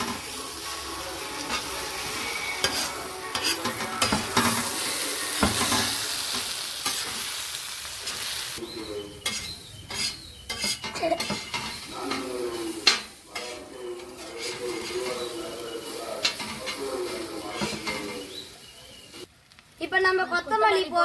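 Chicken kothu parotta stirred and fried in a pan at home, with a steady sizzle under repeated metal scraping and clinking of a utensil against the pan, and a voice faintly heard at times.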